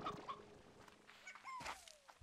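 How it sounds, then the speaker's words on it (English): Short clucks from chickens in a Minecraft-style ranching game, a few quick calls near the start, then a rising squawk and a sliding whistle-like call amid other in-game sounds. "I heard chickens."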